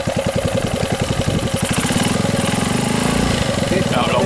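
A Honda BF5 outboard engine, just repaired, runs with a rapid pulsing putter that rises into a faster, smoother rev and holds there, loud and close.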